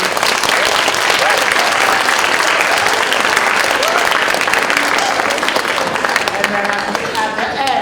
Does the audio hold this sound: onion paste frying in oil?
no